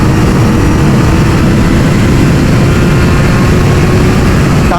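A Kawasaki Ninja ZX-4R SE motorcycle engine drones loud and constant on a highway, a dense, unbroken roar mixed with heavy wind rush throughout.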